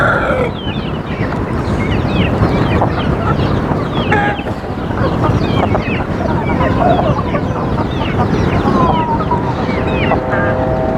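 A coop full of hens gives loud, dense clucking and squawking throughout, with overlapping calls and a constant busy din close by.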